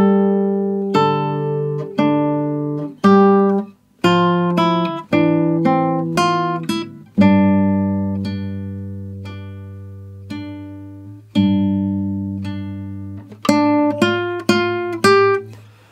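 An acoustic-sounding guitar plays the main theme melody from A Plague Tale Requiem, a slow line of plucked single notes and chords, some ringing long and others quickly stopped, with pauses between phrases and no talking.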